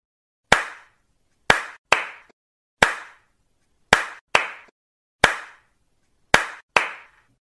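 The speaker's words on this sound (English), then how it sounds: "How many times did I clap?" Sharp, single hand claps, close and loud in a quiet room, arranged in a one-then-two pattern repeated several times, each crisp slap ringing briefly before silence.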